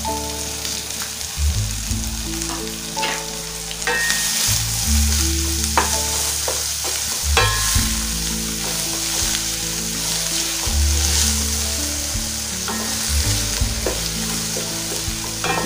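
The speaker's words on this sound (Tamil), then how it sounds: "வெங்காயம் பார்த்திங்கன்னா நல்லா வதங்கிக்கோங்க." Finely chopped onion sautés in a pan for village-style chana dal chutney, a constant close sizzle with repeated scraping and stirring strokes of a spoon against the pan.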